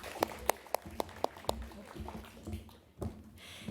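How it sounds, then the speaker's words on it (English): Audience applause for a panel at a women's summit: faint, sparse hand claps, first in a quick even rhythm, then thinning into scattered claps from a small group. "Let's give them all another round of applause."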